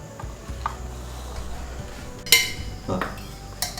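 Metal cooking pan set down on a kitchen stove while making crispy butter murukku, with a sharp clank, a quieter clatter and a final knock over a faint background hum.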